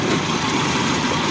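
A Toyota 3A-U engine with a slightly loose belt runs at a steady idle, a loud close continuous rumble throughout the brief moment, with no talking.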